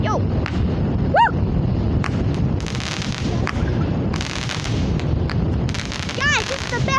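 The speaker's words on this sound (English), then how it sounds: "Guys, this is the best fireworks!" Fireworks going off at an outdoor backyard show, a series of sharp bangs and crackles with whistling rockets rising, close and loud over steady crowd noise and excited shouting.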